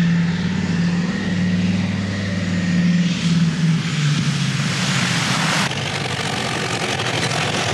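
A fixed-wing airplane braking hard on a short, slippery, pothole-ridden runway, with loud engine roar and a rising rush of noise that swells midway, then settles into a sustained rumble.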